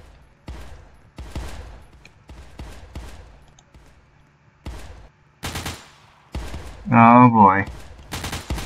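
Burst-fire gunfire in the video game Crossroads Warfare, sharp short volleys spread between quiet gaps, with one louder dense burst near the end, while someone talks over the shooting.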